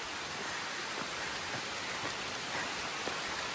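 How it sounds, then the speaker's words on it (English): Steady rain falls through tree cover along a forest trail on the Appalachian Trail, a continuous even hiss with occasional heavier drops tapping leaves nearby. "It's raining pretty good."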